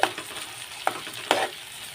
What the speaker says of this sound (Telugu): సేపు ఆగిన తర్వాత మధ్యలో ఒకసారి కలుపుకోవాలండి ఇలాగా టమోటాలని